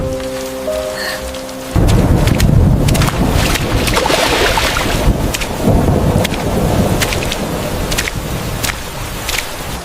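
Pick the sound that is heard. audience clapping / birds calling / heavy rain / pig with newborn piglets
heavy rain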